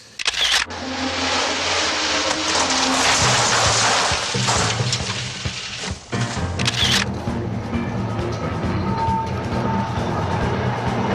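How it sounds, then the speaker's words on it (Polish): A Soviet locomotive passes by with loud, broad roaring rumble for several seconds, easing into a steadier, lower mechanical drone; a few sharp clicks appear near the start. "Fajna radziecka lokomotywa zresztą przejechała."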